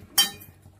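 A single light clink of a spoon against a pot while coconut is stirred into a curry, close and brief, followed by quiet.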